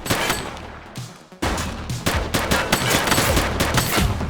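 Bursts of gunfire ring out in The Precinct, a police video game, with a loud cluster of shots, a short lull, then sustained rapid fire carrying through to the end.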